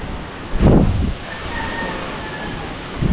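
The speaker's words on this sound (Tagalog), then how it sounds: "Ah, lakas ng hangin mga kahaw." Strong wind on a boat buffets the microphone in a loud gust, then settles into a steady rushing roar with another gust at the end.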